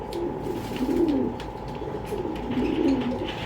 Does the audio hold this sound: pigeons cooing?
yes